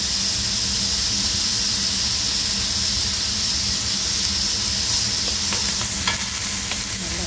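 Pork adobo with chicken wings is stirred in a pan, giving a steady close sizzle and hiss with occasional scraping clinks near the end; no one speaks.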